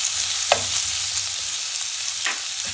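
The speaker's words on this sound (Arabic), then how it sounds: "كنسخنوا شويه المقله، كنديروا شويه الزيت، كنضيفوا البصله" Onion frying in oil in a hot pan: a steady close sizzle with two brief stirring scrapes, no voices.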